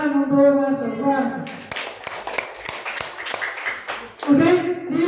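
Classroom students clapping for a classmate, a short burst of scattered hand claps between stretches of a teacher's talk, fairly near and moderate in level.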